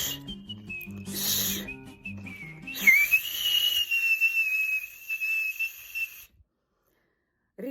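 A person whistles loudly with the mouth alone, no fingers, pushing strong bursts of air past the teeth and tongue to make a shrill, wavering whistle that rises into a long sustained note before cutting off to silence.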